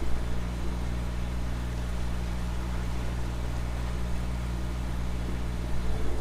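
Steady droning engine hum with a low tonal buzz, continuous and fairly loud, like a motorboat running nearby on Lake Erie.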